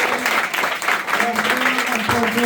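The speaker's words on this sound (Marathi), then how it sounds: "त्यांच्यासाठी जोरदार टाळ्या उद्या गेल्या" A crowd gives a burst of clapping for the chief guest at a school farewell ceremony, with a speaker's amplified voice carrying over the applause.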